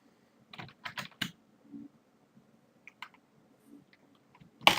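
Java code is typed on a computer keyboard in scattered short bursts of crisp key clicks, close and fairly quiet, with pauses between and a louder clack at the end.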